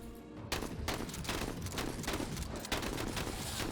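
Sustained volleys of gunfire in the game Menace, sharp cracks stacking into a loud, continuous fusillade from the first half-second on, with no voices over it.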